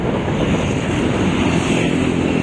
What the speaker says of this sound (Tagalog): sobrang lakas ang tubig